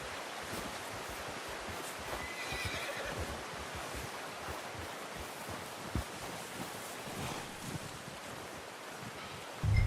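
A horse whinnies in the video game Red Dead Redemption 2 over a steady wash of wind and surf-like noise, with faint hoof clip-clops and a sharp thump at the end.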